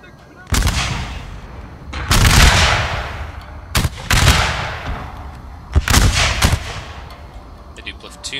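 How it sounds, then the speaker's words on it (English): Musket platoon fire from Total War: Shogun 2, sounding as four loud, rolling volleys about every one and a half seconds, each a dense crackle of many shots fading into echo. "They do platoon fire."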